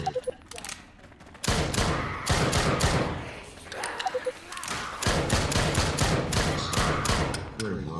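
Gunfire from the video game Drop Dead: Dual Strike rattles out in loud, dense bursts of rapid shots, broken by short pauses, with a voice briefly heard amid the shooting.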